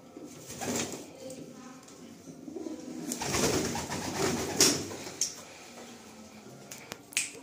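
Soft, low coos of Madrasi pigeons in a loft rise and fall close by, mixed with scattered sharp clicks and taps and faint background murmur.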